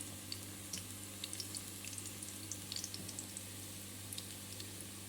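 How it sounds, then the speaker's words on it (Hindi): Seekh kababs laid one by one into hot oil over a medium flame, a faint, soft sizzle with scattered small pops and crackles, no voices. "अब इसमें मैं एक एक कबाब इस तरह से ऐड करती जाऊंगी। यहाँ पे फ्लेम को हमने हाई नहीं रखना, बस मीडियम फ्लेम पे ही इसे फ्राई करेंगे।"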